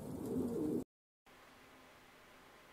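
Racing pigeons in a loft coo loudly with low, rolling calls for under a second. A short silence follows, then a faint, steady room hum.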